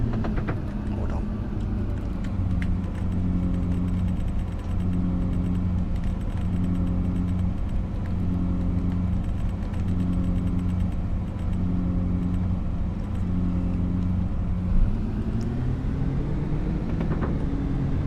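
A vehicle engine in Farming Simulator 25 drones steadily and close, holding a low pulsing hum that rises slightly near the end, with no speech over it.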